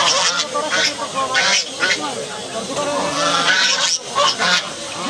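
Ducks at a rural market near Dohar, Dhaka, quack and honk loudly and continuously while being fed paddy, a dense close chorus of calls with crowd noise mixed in.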